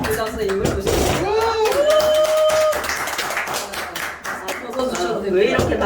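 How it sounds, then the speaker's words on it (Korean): An audience claps at a school launch ceremony, with dense, brisk applause running throughout while a speaker's voice carries clearly over the clapping. "왜 이렇게 박수가 큽니까?"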